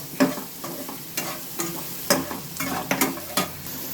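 Onions sautéing in a pan for a Tamil dry fish curry, with repeated stirring scrapes and a soft sizzle in irregular bursts, close up and fairly loud, no talking.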